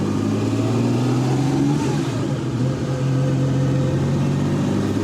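A 1964 Ferrari 250 GT Lusso, restored, pulling away in traffic, its engine a steady close droning hum with tones rising slightly, no voices over it.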